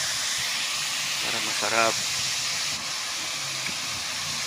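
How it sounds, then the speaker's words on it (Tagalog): Vegetables for pancit sizzle in a hot pan as they are sautéed, giving a steady, soft hiss throughout. A voice speaks briefly over it. "Igisa natin muna ng maayos para masarap"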